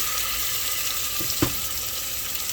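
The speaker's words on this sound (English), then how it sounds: "it's sizzling a little bit, so I'm going to throw this right in there" Tuna sears in a hot Instant Pot on the sauté setting with a steady close sizzle, broken by a brief clatter partway through.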